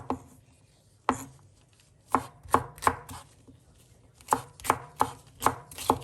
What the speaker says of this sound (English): This is green peppers I'm cutting and chopping off in small pieces